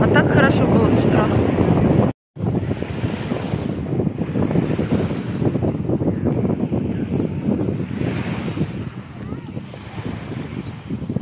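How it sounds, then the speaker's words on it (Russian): Strong wind buffets the microphone steadily at a seaside beach in Sharm El Sheikh, Egypt, in November, a loud continuous roar with faint surf beneath and a brief dropout partway through. "Такой ветер поднялся резко."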